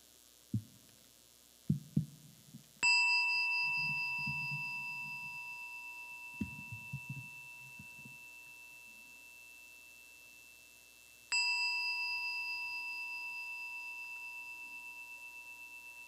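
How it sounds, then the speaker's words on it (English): A meditation bell is struck twice, each strike ringing out clear and sustained with a long, slowly fading resonance, preceded by a few soft knocks and handling sounds in a quiet room. "sound the bell so we can go into meditation"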